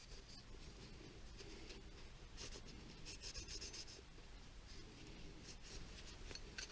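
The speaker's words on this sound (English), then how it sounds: "I'm going to take my shop rag here and I'm just going to wipe off all the excess stuff" A shop rag wipes excess cleaner off a handgun, making faint, steady rubbing and scratchy brushing sounds close by, with small clicks scattered through.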